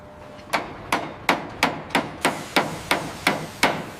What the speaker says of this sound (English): Hold her tight and get the gang ready for riveting.